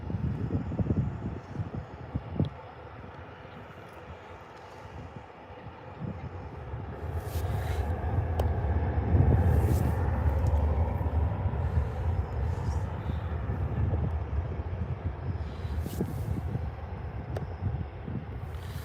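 A Ryanair jet departs Birmingham airport, the engine roar swelling from a distant rumble to a loud, broad wash that holds steady and then eases off. Wind buffets the microphone now and then, and no one speaks.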